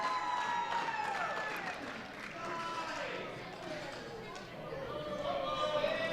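A wrestling crowd at a PowerBomb Wrestling event in Toledo roars in support of the wrestler Fulton, a steady wash of cheering and shouting that runs throughout, with a commentator's voice over it.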